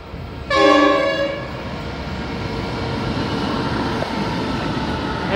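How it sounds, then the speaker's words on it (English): Indian Pacific passenger train arriving, its loud multi-tone horn blasting once near the start, then a steady rumble of the approaching train continuing underneath. "I'll see you when the Indian Pacific train comes."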